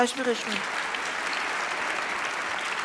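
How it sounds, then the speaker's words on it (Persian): An audience claps steadily for a child at a public gathering, a dense, even wash of applause that starts with a few voices over it and continues unbroken at moderate level. "برو تشویقش کنین"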